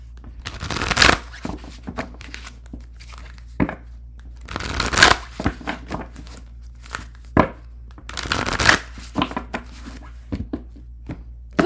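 Tarot cards are shuffled in three brisk bursts of riffling and flapping, separated by quieter pauses with a few soft taps and handling noises.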